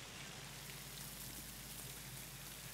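Steady rain falls throughout in an outdoor drama scene, a dense, even hiss of drops with no pauses and no other sounds standing out.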